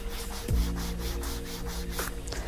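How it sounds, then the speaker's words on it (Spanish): A nail file working along the sides of a fingernail, with soft repeated rasping strokes close up and one louder knock near the start, quiet and without speech. "Vamos a empezar limando los laterales de la uña."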